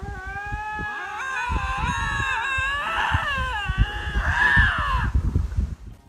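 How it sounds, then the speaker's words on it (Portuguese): Two medium-sized wild lynx caterwaul at each other in long, wavering, overlapping yowls that rise and fall, loud and close, building to sharper, strained cries before fading out. "Este par de linces, um tipo de gato selvagem de tamanho médio"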